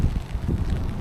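Gusty wind buffets the microphone outdoors in heavy rain beside the water at Kingsbury Water Park, a continuous low rumble that stays loud and steady throughout with no talking.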